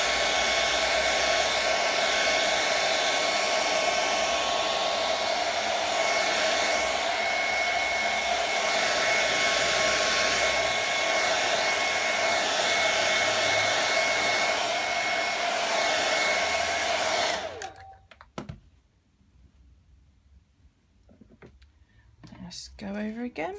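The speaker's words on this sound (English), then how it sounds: "then just use a hairdryer, just dry that off" A hair dryer blows steadily at close range for about seventeen seconds, drying a first coat of paint on a Boba Fett helmet, then cuts off abruptly, leaving quiet handling noises.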